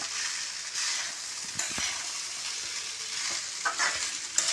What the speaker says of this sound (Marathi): बघा परतवणं चालू आहे